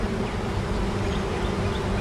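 Honey bees from a newly added swarm hum in a hive in a bee yard, a dense, steady buzzing drone that holds close and fairly loud throughout.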